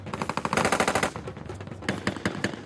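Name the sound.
automatic weapon gunfire, military police weapons qualification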